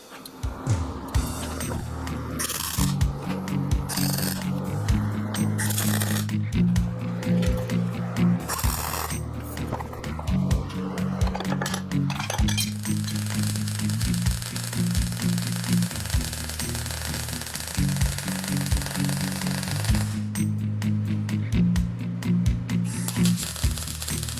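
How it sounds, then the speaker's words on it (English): A steel suspension adjuster for a VW Beetle front end is welded along bevelled edges, giving a steady buzzing, crackling arc in repeated runs with short pauses between them; no one speaks. "So I'm going to weld it in like that."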